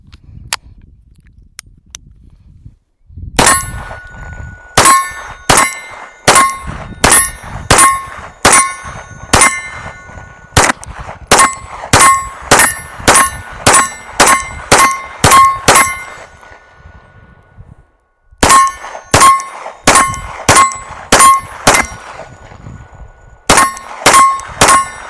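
A Stealth Arms Platypus Glock-fed DS1911 pistol with a bull barrel fires from a 33-round stick magazine at steel targets. Loud, close shots come in rapid strings separated by short pauses, and each impact leaves a bright ringing clang. No one speaks.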